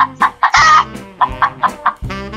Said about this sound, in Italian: È della gallina!